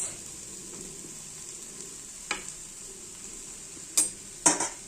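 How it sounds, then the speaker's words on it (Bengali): Fried bata fish added to a simmering curry, with a low steady bubbling hiss and a few sharp clatters of a utensil against the pan near the end. "এই যে মাছগুলো ভেজে এবার দিয়ে দিলাম ঝোলে, একটু ঝোলের মধ্যে ডুবিয়ে ডুবিয়ে দিই"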